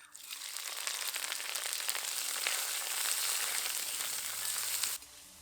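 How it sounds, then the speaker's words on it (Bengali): Chopped onion drops into hot oil with popping mustard seeds and dried chillies, a loud, steady sizzle held close for several seconds that stops abruptly. "এবার এর মধ্যে দিয়ে দেব পেঁয়াজ কুচি"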